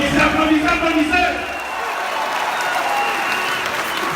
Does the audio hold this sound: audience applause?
yes